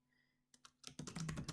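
Fingers type on a computer keyboard in a quiet room, entering a chart title in Excel. A few separate clicks give way to a quick, steady run of keystrokes, faint and close.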